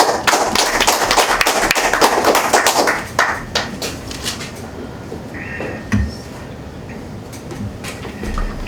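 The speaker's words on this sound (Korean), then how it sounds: "윤석열 총장을 위해서 박수 한번 쳐주십시오." An audience claps at a Korean national prayer meeting lecture: a dense burst of applause for about three seconds, then thinning into scattered claps and thumps that fade away.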